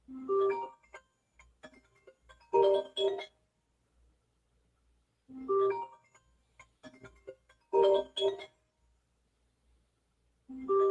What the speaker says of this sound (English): But the phone ringing.